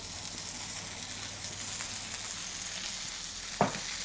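Sea bass sears in a hot pan with a steady, close crackling sizzle, broken by one sharp clunk near the end.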